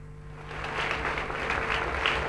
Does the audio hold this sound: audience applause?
yes